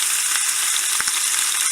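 Steady, bright sizzling of chicken fat frying in hot oil, close up, with a few soft knocks of a pan or utensil.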